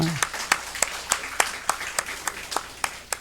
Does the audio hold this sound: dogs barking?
no